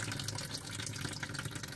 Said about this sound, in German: Wenn ich hier aufdrehe, da kommt zwar Wasser, aber nur treppelweise und dann hört es auf.